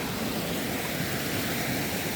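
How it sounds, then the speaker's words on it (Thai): A small waterfall along a walking path near a coffee stall among rice terraces at Pa Bong Piang, Mae Chaem, Chiang Mai, giving a steady, even rush of falling water that stays constant throughout with no talk over it. "โอ้มีน้ำตกเล็กๆด้วย"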